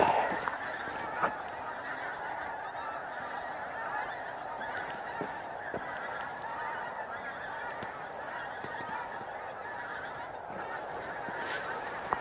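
A flock of geese flying overhead near Gleneagles, Scotland, honking continuously, many overlapping calls at a steady distance, with no talking.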